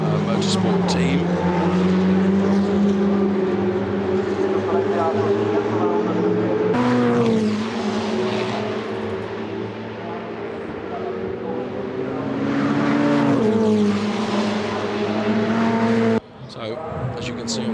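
Ferrari Challenge race cars racing at Monza in a Trofeo Pirelli race, their engines droning loudly and steadily with rising and falling pitch as they pass, under continuous commentary.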